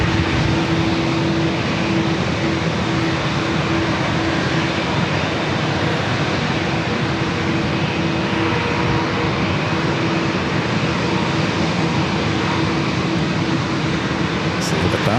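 Japan Airlines airliner crossing runway 27 at San Diego airport, a steady distant engine rumble with a constant hum running throughout, no voices over it.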